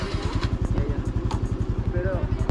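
A Honda Navi scooter's small engine runs close by with a steady, rapid pulsing throb, holding an even rhythm throughout under a faint background hiss.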